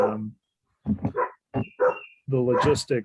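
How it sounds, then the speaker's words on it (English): Several dogs barking in the background of an online community advisory committee meeting, short bursts with pauses between them, mixed with and partly under a person talking. "Are my dogs becoming background noise?"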